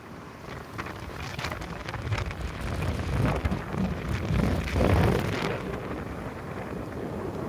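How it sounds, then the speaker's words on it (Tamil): Strong sea wind blows across the shore at the Nagapattinam lighthouse, a steady roaring rush with gusts that swell louder midway and buffet the microphone, with no voices. "இப்போ அப்படியே காற்று எவ்வளோ ஓட்டமாக வந்து பாருங்கண்ணா எனக்கு காற்று சொல்லி கேட்கும்னு நினைக்கிறேன்"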